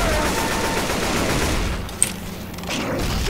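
Video game gunfire in a zombie co-op shooter, a dense continuous fusillade of rapid shots filling the first two seconds, one sharp close blast at the midpoint, then steadier firing resuming underneath.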